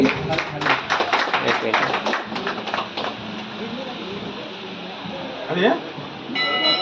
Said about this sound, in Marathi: आपण टाळ्या वाजवूया सगळ्यांनी सरांसाठी